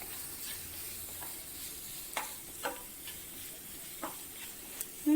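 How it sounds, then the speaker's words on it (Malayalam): Spring onion sautéing in a pan for garlic chicken, a soft continuous sizzle with a few light stirring knocks against the pan, close but fairly quiet and without speech. "ഒന്ന് വഴറ്റി കൊടുക്കാം."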